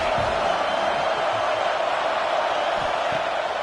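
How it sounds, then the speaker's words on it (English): At a college football game at Alabama's Saban Field against Oregon, the stadium crowd roars on third down as a loud, dense, unbroken wall of noise. "The Tide crowd rolling noise down onto Saban Field on 3rd down."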